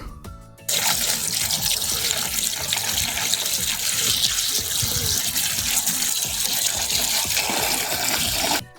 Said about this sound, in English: Once the bucket is full, pour in rainwater.